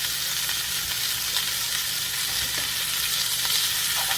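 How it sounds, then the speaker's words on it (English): Food sautéing in butter and oil in a pan at home, a steady close sizzle and crackle with small pops throughout, no talking. "So we're going to let these saute up"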